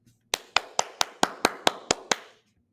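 Students in an algebra classroom clap together in about nine sharp, evenly spaced beats, loud and close, with no talking over them.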